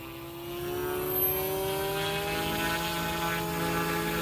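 An ALZRC Devil 380 TBR RC helicopter hovers at idle up 1 with a steady, loud rotor whine and harmonic drone that holds evenly throughout, close by and alone.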